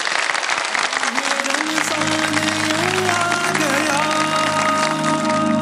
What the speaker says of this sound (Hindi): तालियों के साथ ब्रेक पे जाते हैं